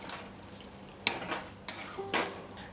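Spoon scraping and stirring mutton sukka with kasuri methi in a pan, several distinct scrapes and clanks over a steady background sizzle, close and fairly loud.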